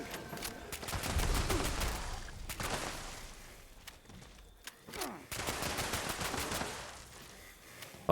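Rapid automatic gunfire in Fallout 76 comes in long, loud bursts of evenly spaced shots, with brief pauses between them and a final shot at the end.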